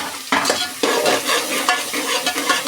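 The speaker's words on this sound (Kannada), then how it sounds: "ನೆಕ್ಸ್ಟು ಹಸಿಮೆಣ್ಸಿನ್ಕಾಯಿ ಆ್ಯಡ್ ಮಾಡೋಣ ಸ್ವಲ್ಪ ಒಗ್ಗರಣೆ ಫ್ರೈ ಆಗಲಿ" Green chillies frying in a tempering with curry leaves, a loud, close sizzle broken by quick scraping strokes of a spatula stirring the pan.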